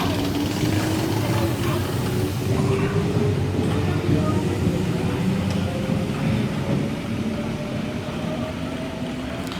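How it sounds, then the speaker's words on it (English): S-set electric trains S28 and S139 pulling out of a station platform on a Macarthur service, steady loud rumble with a slowly rising motor whine, close by. "And S28 and S139 is now departing platform number 2 for a Macarthur service."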